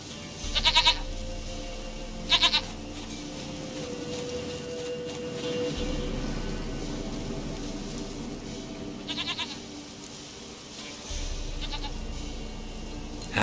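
A goat in The Witcher 3 gives several short, nasal bleats in bursts, spaced apart over a low steady game ambience and a background drone.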